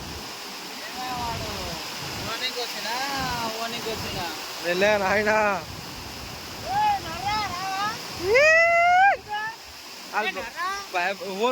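Water rushes out of an overflowing village pond in a steady roar, heard under people talking throughout.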